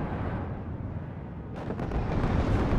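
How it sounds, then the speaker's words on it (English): HE bomber strike in the WARNO strategy game, a low rumbling roar that builds into a heavier, harsher blast-like surge of explosions partway through, dense and continuous. "HE bomber coming in there."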